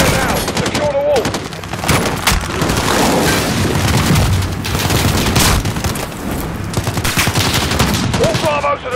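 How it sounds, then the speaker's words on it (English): Rapid bursts of automatic gunfire and booming shots from a Call of Duty Modern Warfare 2019 firefight at a residence, loud and dense throughout, with voices and radio chatter mixed in. "We're taking fire from the residence."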